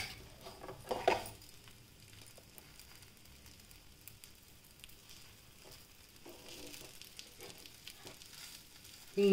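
Moong dal rolls fry in a pan of oil with a steady low sizzle, a brief louder crackle near the start and a few small bursts of spatter later, no voices.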